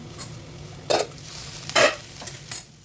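Ivy gourd frying in a pan, a few short bursts of stirring and sizzle scraping against the pan, with quiet gaps between them.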